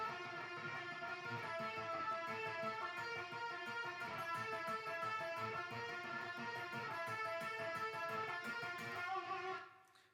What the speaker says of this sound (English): he did this kind of weird dissonant thing that sounds like this.